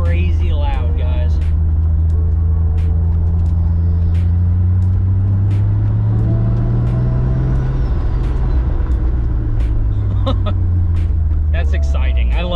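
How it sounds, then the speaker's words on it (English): A Toyota Supra fitted with a GTX3584RS turbo with a T51R mod, its loud engine droning and rising under load with turbo whoosh and flutter, recorded close with people talking over it. "This turbo is crazy loud, guys."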